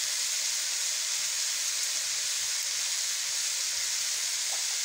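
Pumpkin pieces fry in a pan with turmeric, red chili powder and salt in a village kitchen, giving a steady, hissing sizzle that stays even throughout, close and unbroken.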